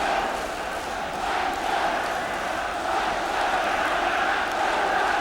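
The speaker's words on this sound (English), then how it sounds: "Crowd raising the volume." A vast football crowd of about 90,000 at Wembley roars steadily during the 1982 FA Cup Final replay between Spurs and QPR, a dense sustained din that swells slightly louder as it goes.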